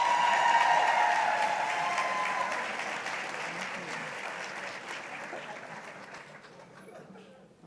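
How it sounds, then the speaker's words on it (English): Audience applause at a sheriff's office promotions ceremony, a full steady burst of clapping that starts loud and slowly tapers off over several seconds, with a voice faintly audible early on. "let's keep the applause going."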